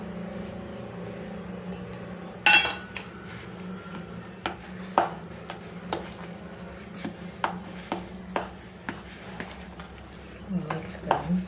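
A spoon taps and scrapes against a bowl while spices are mixed into a potato paratha filling: a run of sharp, irregular clicks, close and moderately loud, over a low steady kitchen hum.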